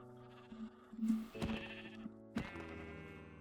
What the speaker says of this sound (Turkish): Valla burada bir sürü koyun var.